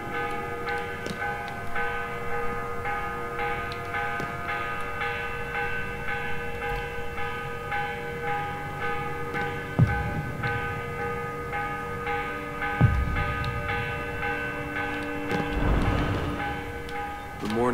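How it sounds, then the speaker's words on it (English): The morning bell in Assassin's Creed Revelations rings with sustained metallic tones that ring on steadily, with a few sharper clangs and thumps rising near the end. "Clanging noise, kind of annoying."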